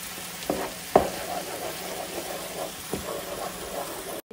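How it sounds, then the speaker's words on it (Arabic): Chicken stirred through fried tomato paste in a pan, a steady close sizzle broken by a few scraping knocks of the spoon against the pot. "نبدي نقلب الدياي"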